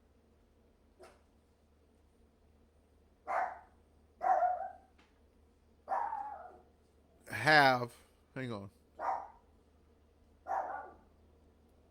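A dog barking indoors in a series of sharp, separate barks spaced a second or two apart, moderately close, with someone speaking briefly between them.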